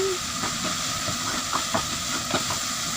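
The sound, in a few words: steam hissing in covered cooking pot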